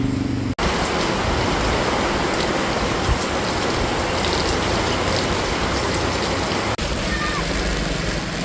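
Heavy rain pours down in a dense, steady roar that fills the scene from start to finish, close and loud, with no pause in the downpour.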